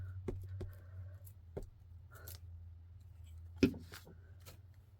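Scissors snipping a paper picture out for an autumn collage: a few sharp, close clicks and snips spread across a quiet room, with a louder cut near the end.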